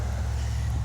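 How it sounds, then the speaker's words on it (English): A car passes on a nearby road, a low steady rumble of engine and tyres lasting under a second, heard alone without talk. "Let me let this car drive by so we can hear it."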